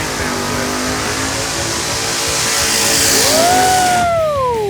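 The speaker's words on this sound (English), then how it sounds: "Let's see the Black Widow do its burnout, because we say the burnouts never lie on Pastime." Drag race car doing a burnout at a drag strip: a loud, sustained engine roar with rising revs near the end, heard alone without talk.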